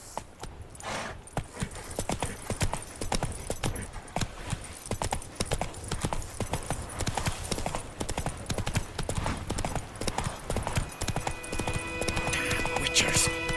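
Roach the horse gallops in The Witcher 3, a steady run of rapid clip-clop hoofbeats from start to finish, with occasional speech and game sounds layered over the pounding rhythm.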